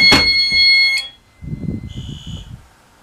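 A loud, piercing school fire alarm horn blares steadily for about a second during a system test, then cuts off, leaving rumbling movement and a faint high electronic tone.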